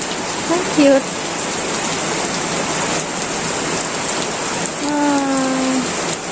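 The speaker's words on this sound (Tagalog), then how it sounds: "Wala, ang lakas na ng ulan" Heavy rain from a typhoon pours down in a dense, steady hiss that stays loud throughout, while a voice speaks briefly over it near the beginning and again near the end.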